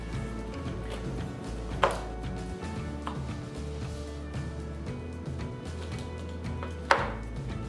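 A knife cuts a slice from a chilled flan pâtissier, with two sharp taps of the blade hitting the board or plate over a low steady background hum.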